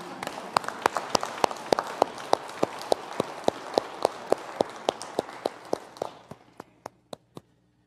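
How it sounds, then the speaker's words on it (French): A church congregation applauds the choir at a Sunday Mass in Gaspésie: a steady, close round of clapping with rhythmic claps standing out over a dense wash, thinning to a few scattered claps before it stops. "Je vous invite encore une fois d'applaudir pour la meilleure chorale de la Gaspésie"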